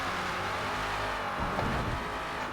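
A Ford Falcon FG X race car engine at Yas Marina in Forza Motorsport, a loud continuous engine drone that holds steady, rising slightly toward the end.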